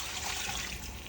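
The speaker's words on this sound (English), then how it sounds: "we are going to add a couple cans of chicken stock or water" Canned chicken stock pours into a cooking pot for a Vietnamese chicken noodle soup, a soft, steady liquid splashing and trickle heard faintly and continuously with no talk.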